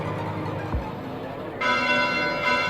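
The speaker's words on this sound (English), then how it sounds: "Bells? This late at night?" Church bells toll at night in Fire Emblem: Three Houses, a bright ringing tone that enters partway through and swells over a low game music bed, with a voice briefly heard early on.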